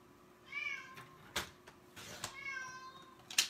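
A house cat meows twice, two drawn-out, fairly close calls separated by a pause, with light handling clicks and taps from paper crafting in between and a brief knock at the end.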